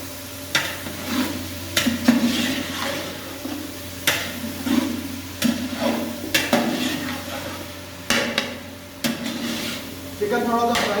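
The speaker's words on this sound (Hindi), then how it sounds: "चिकन थोड़ा सा फ्राई होगा" Chicken pieces being stirred and fried in a pot for biryani pulao, with repeated scraping strokes of a spoon against metal over a continuous sizzle, loud and close.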